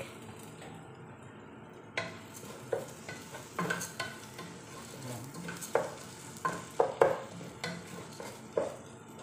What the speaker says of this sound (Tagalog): Tapos i-add ko na yung garlic dyan.